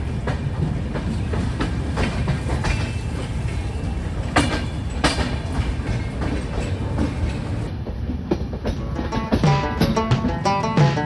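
A superfast passenger train runs on rails, loud continuous rumble with rhythmic clickety-clack of wheels over rail joints and occasional metallic squeals, heard close from inside.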